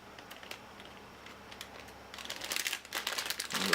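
Perforated plastic Madballs blind bag packaging is torn open by hand, quiet clicks and rustles giving way to a louder crinkling, crackling burst as the wrapper splits.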